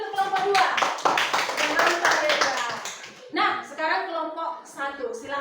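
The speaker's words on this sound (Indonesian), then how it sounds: "Ayo, kasih tepuk tangan dulu untuk kelompok 2" Classroom applause for a student group, with a burst of hand clapping from many pupils mixed with voices, then a shorter second round of clapping after a brief lull.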